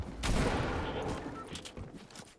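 Gunfire in the video game Fortnite crackles as a rapid burst of several sharp shots, loud at first and then fading into scattered quieter pops, with no talk.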